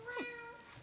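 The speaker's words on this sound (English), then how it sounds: "Oh, can we have Kitty with us?" A single short cat meow played as a stage sound effect, with a clear rising-then-falling tone that fades quickly, followed by faint background noise.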